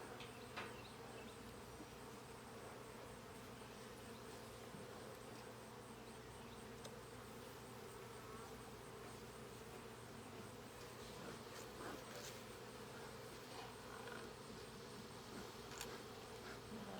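Honeybees swarm around an open beehive frame during a hive inspection near the queen frame. Their buzzing is a dense, steady drone that stays close and constant throughout, with no speech.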